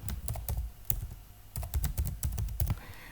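Keys clatter on a computer keyboard as a layer name is typed into LibreCAD drafting software, a quick burst of close, crisp clicks in uneven clusters, with a short pause partway through.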